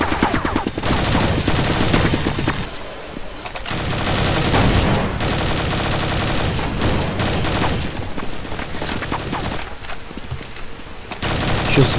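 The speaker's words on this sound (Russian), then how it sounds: "Сейчас, блин, бегают с миниганом этим дурацким." Minigun fire in the Half-Life video game pours out as sustained, dense automatic bursts, loud and nearly unbroken across the whole stretch, with only brief dips between volleys.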